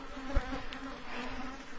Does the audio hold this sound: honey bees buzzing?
yes